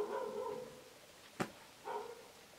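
Dogs bark faintly in the background, with a couple of muffled barks and a sharp click between them, soft and distant with no speech over them.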